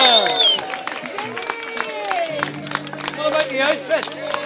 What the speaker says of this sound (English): Can you put your hands together for Kitty?